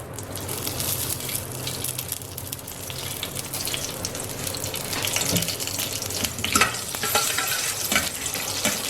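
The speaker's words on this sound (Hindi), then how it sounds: "उसके बाद अब हम इसमें डालेंगे तकरीबन हाफ कप के करीब ऑलिव ऑयल" About half a cup of olive oil poured into a pan holding rosemary leaves: a steady, close liquid rush and trickle that builds slightly, ending with a few rattling, sizzling clicks.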